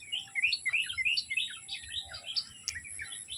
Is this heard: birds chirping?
yes